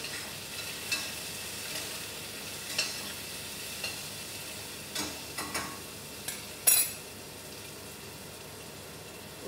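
Onions frying in a pan give a soft, steady sizzle with periodic scrapes and taps as they are stirred, the last tap louder than the rest, and no voices.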